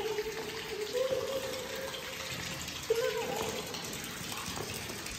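Water flowing at Geghard Monastery in Armenia, a steady running gush with a faint dripping edge, briefly under a short spoken remark.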